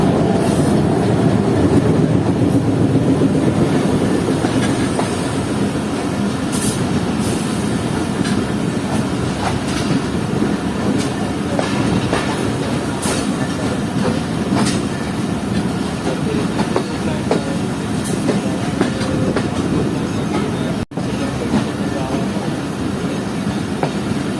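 Jaffer Express passenger train running through a station on through signals without stopping, with steady loud rumble and clickety-clack of wheels on rail joints throughout, and brief faint wheel squeal near the end.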